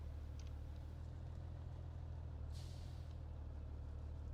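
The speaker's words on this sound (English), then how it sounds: "See there, it actually geared down, and there it geared down again." A truck in Farming Simulator 19 drones with a steady low engine rumble as it gears down, with a brief hissing burst partway through over a constant hum, no voices.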